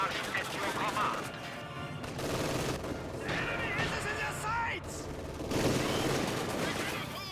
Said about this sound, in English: Light artillery barrage at your command.